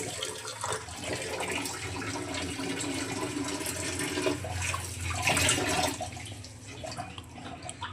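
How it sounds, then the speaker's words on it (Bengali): Water splashes and runs steadily as pumpkin leaves are rinsed one by one, a continuous close wash with surges and drips and no talk. "একটা একটা করে কুমড়ো পাতাগুলোকে ধুয়ে নিচ্ছি।"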